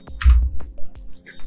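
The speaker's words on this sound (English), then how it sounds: "So now we can type." Close, crisp keystrokes on a computer keyboard tap out a short, uneven burst of typing, with distinct clicks spaced irregularly and nothing else audible.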